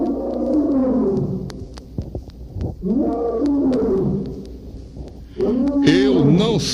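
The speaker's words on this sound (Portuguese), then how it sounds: "ele começou a rugir estrondosamente, como vamos ouvir o seu rugido" A lion roars loudly in a series of long, rumbling calls, swelling and fading with short pauses between, ending in a rougher, noisier burst; the animal had reportedly gone two days without food.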